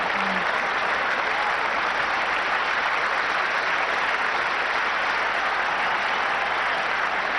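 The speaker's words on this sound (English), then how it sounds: "there's no wonder everybody's applauding" Cricket crowd at a 1996 World Cup semi-final in Kolkata applauding a batsman's half-century; dense, steady clapping and crowd noise fills the whole stretch without letup.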